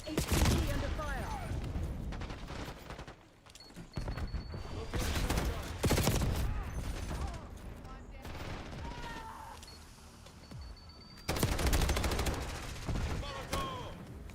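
Bursts of automatic gunfire and explosions rage through a video game shootout, loud and dense in waves with brief lulls between volleys.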